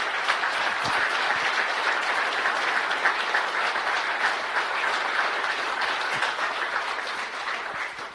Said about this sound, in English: So join in an applause for them as well.